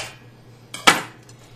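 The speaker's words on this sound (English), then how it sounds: "Then I take a roasting pan." A metal roasting pan picked up and set down for a pork shoulder roast, a short rattle followed by one bright metallic clank that rings briefly, close by in a quiet kitchen.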